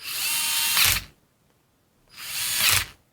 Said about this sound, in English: But I think you can hear that. That is a mechanical clutch.